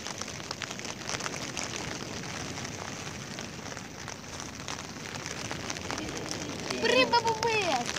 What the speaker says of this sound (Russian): Пережидаем дождь.